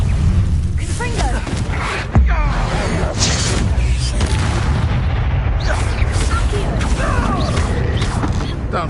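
A Confringo fire spell bursts in Hogwarts Legacy, a loud, booming blast followed by crackling, rumbling combat noise that stays dense and close for several seconds.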